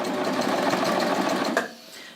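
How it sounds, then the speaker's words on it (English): A serger overlock machine running a 3-thread wide stitch around the cut hem of jeans gives a fast, steady whirring hum up close, then stops abruptly near the end. "So now I'm just going to serge around using a 3-thread wide."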